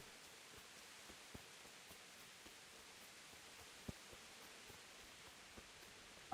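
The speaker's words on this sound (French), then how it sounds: "J'espère que le son de la pluie n'est pas trop fort." Steady soft hiss of rainfall in the video game Kingdom Come: Deliverance, with occasional faint drip ticks, even and quiet throughout with no voices.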